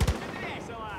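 Two quick gunshots crack in Far Cry 5, close and sharp at the very start, then fade into a ringing echo.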